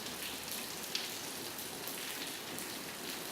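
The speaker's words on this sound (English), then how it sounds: "As you can hear in the background, it's raining." Steady rain pours down at a hangar, a dense, even hiss of drops on a surface with no let-up, close and moderately loud.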